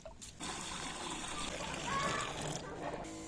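Potassium monophosphate fertilizer solution stirred in about ten liters of water, a continuous sloshing, trickling wash of liquid that swells slightly midway, with a voice heard briefly.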